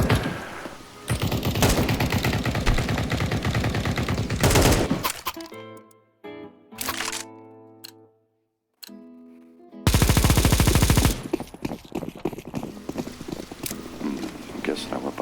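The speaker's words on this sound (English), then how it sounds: "Oh, we got shooting." Video game gunfire in a rainy Italian night setting: loud rapid bursts of automatic fire, then a lull with scattered sounds and near-silence, followed by another heavy sustained burst, with voices talking over parts of it.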